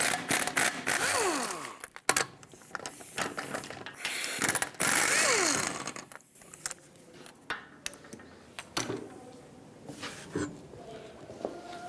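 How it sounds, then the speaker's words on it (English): Ratchet wrench with a 21mm socket loosening the five lug nuts on a rear wheel of a 1997-2001 Lexus ES300, heard as repeated bursts of rapid clicking between pauses and metallic handling, with some talk. "21mm socket, take all 5 of your lug nuts off"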